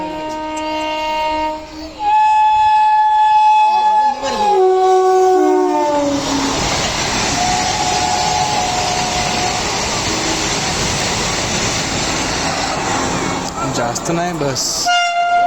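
Pune–Kolhapur Vande Bharat express train passing close, its horn sounding in long tones before a loud, sustained rush and rumble of the carriages going by, with a short spoken remark near the start.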